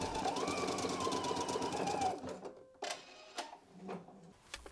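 A domestic sewing machine stitches a small fabric tube for a scrunchie, a fast close rattling run for about two seconds, then stops, followed by scattered clicks and handling noises.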